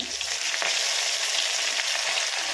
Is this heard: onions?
yes